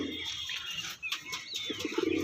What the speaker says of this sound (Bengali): নর পায়রাটা দেখুন কত সুন্দর নর মাদা দুজনই খুব সুন্দর